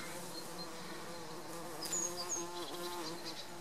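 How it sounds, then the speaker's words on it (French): Many bumblebees and honeybees swarm a garden in Greece in May, a dense, continuous buzzing close to the microphone with individual insects swelling louder as they pass. "ça grouille de bourdons. Ça grouille d'abeilles"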